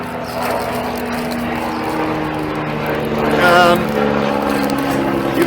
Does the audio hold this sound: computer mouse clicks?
no